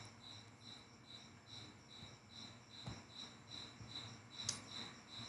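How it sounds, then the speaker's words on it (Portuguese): Cricket chirping indoors inside a home, steady repeated short chirps at an even rhythm over a faint background with a few soft rustles. "tem um grilo cantando aqui em casa"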